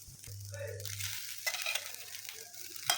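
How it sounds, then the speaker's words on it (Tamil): White rice being stirred into a sautéed carrot mixture in a pan, soft scraping and light sizzling in short strokes, quiet and close, with no talking. "ஆட் பண்ணிவிட்டு நல்லா மிக்ஸ் பண்ணிக்கிறேன்."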